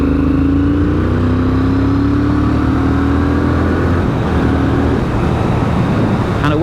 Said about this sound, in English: 4th gear, 2000 RPM, 50 k's an hour, cracker open.